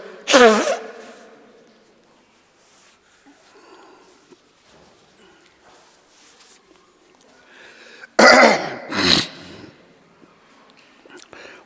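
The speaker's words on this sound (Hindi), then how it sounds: "दवाई नहीं ली ना तो बड़ा खांसी हो रही है।" Someone coughs in two loud, harsh bursts, one at the very start and another pair near the end, with quiet near-silence between them.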